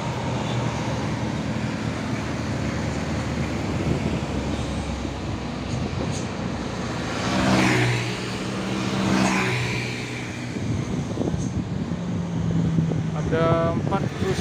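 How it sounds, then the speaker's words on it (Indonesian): Buses and other traffic pass along a ring road in Jogja, engines rumbling and swelling as vehicles go by nearby, with a horn-like tone near the end and talk mixed in. "Ada 4 bus, 1 bus kecil."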